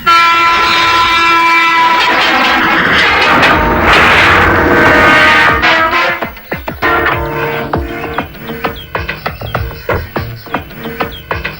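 A train roars past on the track, loud and close, with a horn blast; the noise drops into rhythmic clacking of wheels over rail joints.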